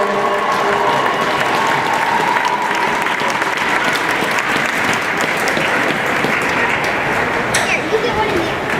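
A crowd at a youth hockey tournament trophy ceremony in an ice rink claps steadily and densely for the all-tournament team, with an announcer's voice carrying over the applause.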